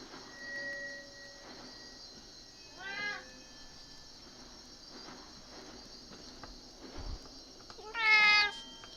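A house cat meows twice nearby, first a faint short cry and then a louder rising meow near the end, over a quiet background with a steady hum and insect-like chirping.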